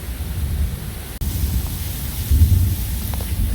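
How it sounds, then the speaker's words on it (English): Heavy rain pours during a tropical storm on Dauphin Island, a dense steady roar with low rumbling thunder beneath, loud and close, with no voices. "Rain's even heavier now."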